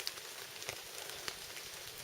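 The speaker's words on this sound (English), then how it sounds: "It's been raining for quite a while now." Steady rain falls in the misty Appalachian Mountains, a soft, even hiss of drops on surfaces with a few sharper taps, fairly faint and with no voices.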